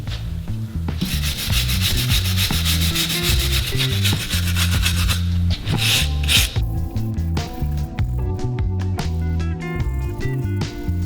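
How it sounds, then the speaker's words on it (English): Steady, close scrubbing of dust, dirt and rust off a wheel hub during a wheel bearing replacement: loud, continuous rasping with rhythmic strokes for about five seconds, then a brief pause and lighter, irregular scraping. "I'm going to clean all the dust and dirt and rust off"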